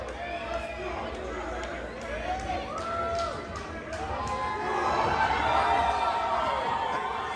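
A wrestling crowd in an arena chants and chatters, a rising, rhythmic wash of many voices that grows louder toward the end, with shouts and babble mixed in.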